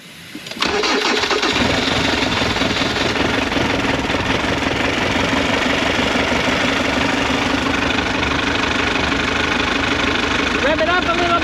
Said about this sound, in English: Okay, start the engine.